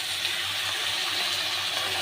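Water pours steadily into a pan of parshe fish and potato curry (jhol) with spices, making a continuous, fairly loud splashing gush from start to finish.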